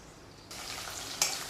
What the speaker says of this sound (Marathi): तेल जसं तापलं तसं आपण ह्यामध्ये ही लसूण घालून घ्यायची